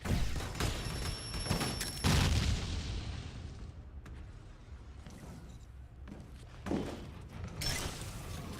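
Explosions from bombs in a video game, a few heavy booms and thumps near the start, then a quieter rumbling stretch with scattered blasts and crackle later.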